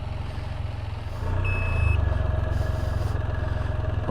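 A single electronic warning beep from the park brake of a Can-Am Origin EV electric motorcycle sounds clearly, lasting about half a second, over a steady low rumble of wind and riding noise.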